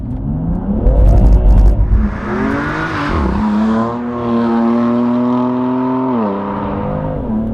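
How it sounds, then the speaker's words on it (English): A BMW 2-series on Cup 2 tyres pulls hard uphill from a standstill on a cold morning, its engine note climbing steadily through loud, close revs as the wheels spin briefly at launch. "Wheel spin from the Cup 2s right off the bat."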